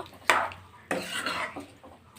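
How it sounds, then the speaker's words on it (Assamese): Jackfruit curry being stirred in a metal pot, with a spoon scraping and clinking against the sides in two firm strokes followed by softer scrapes, close and clear with no talking. "এয়া মই এতিয়া ভালদৰে লৰাই এইখিনি 5 মিনিট সময় উতলিব দিম"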